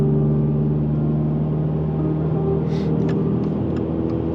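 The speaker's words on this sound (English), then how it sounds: "Pushing the clutch, downshift, rev at the same time." A manual car's engine hums steadily at close range as the driver downshifts near a stop sign, a continuous droning tone with a slight rev rising under it and no talking.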